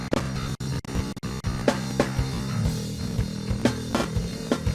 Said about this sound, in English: So the bass guitar sounds like this.